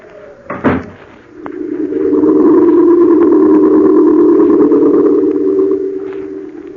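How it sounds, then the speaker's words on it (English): A door shut as a sound effect in an old-time radio drama: a sharp knock-like thud, then a sustained, slightly distorted hum with a rising tone that carries on for several seconds. "I shut the door behind me, very casually"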